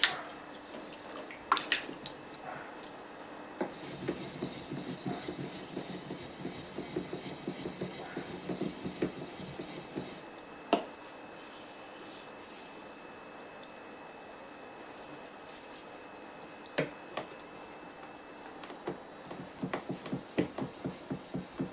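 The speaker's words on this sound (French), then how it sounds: "Quand on affûte une lame, on exerce une pression assez forte sur la pierre" A blade is sharpened on a whetstone under firm pressure, steady wet grinding strokes with sharp clicks and taps scattered throughout, moderately close, no speech.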